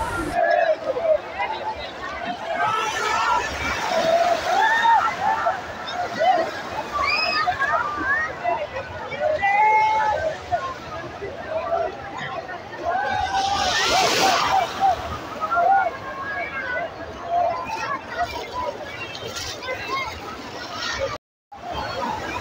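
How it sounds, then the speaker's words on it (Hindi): Sea water surges and sloshes at Mumbai's Juhu beach during a Durga idol immersion, with waves rushing in and splashing under steady crowd babble, and someone talks over it at close range. "तो देख सकते हैं अभी पानी कितना तेज आ रहा है"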